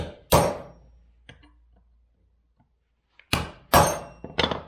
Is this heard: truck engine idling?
no